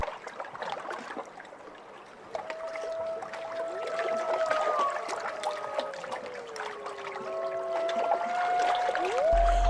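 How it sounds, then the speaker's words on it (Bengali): A rowboat moves along a river, with gentle water sounds under long, creaking, gliding tones that rise and fall steadily throughout. "মাঝি নৌকা চালাচ্ছে"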